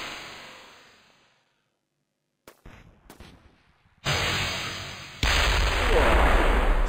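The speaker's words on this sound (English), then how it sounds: "Space explosions." Kerbal Space Program explosions in space: a booming blast decays into silence, then scattered crackles and two loud, sustained rumbling explosions in quick succession.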